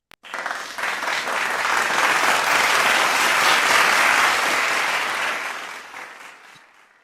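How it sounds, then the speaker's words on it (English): Online audience applause welcoming speakers at a Monday club gathering swells quickly into sustained clapping, holds steady for several seconds, then fades out. "Let's welcome them with our virtual clap."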